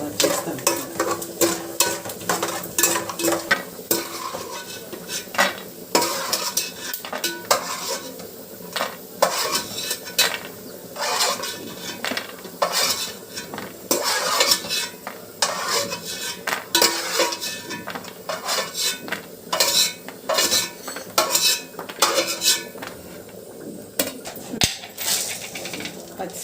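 Nuts roasting in hot oil in a pan for gongura rice, with a steady sizzle beneath frequent scraping and clinking stirs of a metal spoon against the pan, close and fairly loud, with occasional voice in the background.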